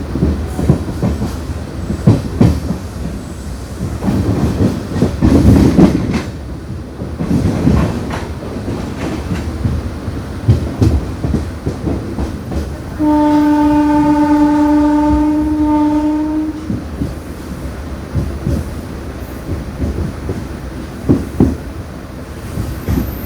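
The 12134 Mangaluru Mumbai Superfast Express rumbles and clatters into Udupi station, with rhythmic wheel noise around a loud, sustained horn blast partway through.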